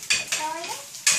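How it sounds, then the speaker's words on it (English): Tempeh sizzling in hot oil in a pan, with repeated scraping stirs of a utensil against the pan in short bursts over a bright crackling hiss, close and fairly loud. "So now the tempeh has started to sizzle, which is a sign that the pan is actually much hotter."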